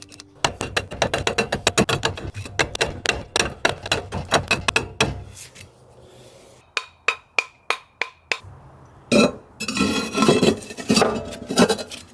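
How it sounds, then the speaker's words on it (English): Steel chisel chipping fire brick to fit a wood stove in a tiny cabin on wheels: rapid, sharp, ringing hammer blows close by, then slower spaced strikes, then another dense burst. "so I got a chisel out and made them fit"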